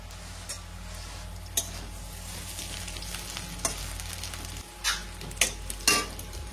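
Lentil dal being tempered with dried red chillies in hot oil, a steady broadband sizzle with a few sharp clinks and spatters of a utensil against the pan, no voices.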